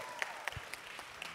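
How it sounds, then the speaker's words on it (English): Applause at a high school music technology festival concert, a few sharp separate claps standing out over a faint room hum, fairly quiet and sparse throughout. "Can we have another round of applause for Sean and Leeway?"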